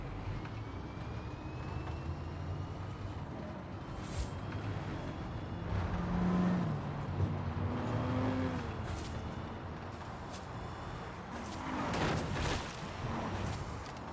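A custom Porsche Taycan Turbo S electric car in the Forza Horizon 5 video game gives off a low, steady motor hum and whine with shifting pitch, plus a few swells of road and wind noise, at moderate volume with no talking.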